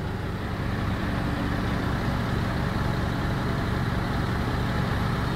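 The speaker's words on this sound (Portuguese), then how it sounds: "Olha o caminhãozão aí." Large truck engine rumbling at a building demolition site, a continuous low throbbing idle heard close and steady throughout with no voices.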